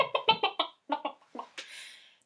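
Children and adults imitate chickens clucking at a storytelling session, giving a quick burst of rhythmic clucks followed by a few slower ones and a squawk, with no other talk.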